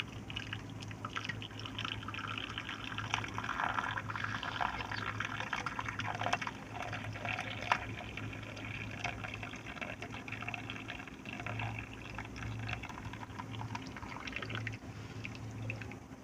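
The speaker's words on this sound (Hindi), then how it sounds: "तो अब इसमें हम डाल देते हैं गरम गरम चाय" Hot walnut tea poured from a pan into a cup, a steady liquid trickle and splash running throughout beneath a low constant hum.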